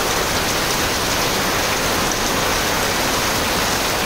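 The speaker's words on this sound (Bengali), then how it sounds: "দেখেন ঝুমঝুম করে বৃষ্টি হচ্ছে।" Heavy rain pouring down, a dense, loud, unbroken hiss of drops hitting surfaces, steady from start to finish with no voices.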